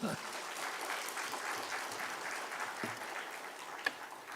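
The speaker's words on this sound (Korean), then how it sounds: "이 청년들이 박수 한번 해요." A church congregation claps steadily and warmly for several seconds, a sustained round of applause with a few sharper claps standing out.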